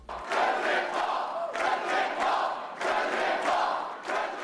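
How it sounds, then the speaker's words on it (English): A friendly political rally crowd at Louisville's Galt House roars and cheers for Rand Paul in repeated loud swells, each surge rising and falling about once a second like chanting. "a friendly crowd gave Rand Paul a rock star's welcome at Louisville's Galt House"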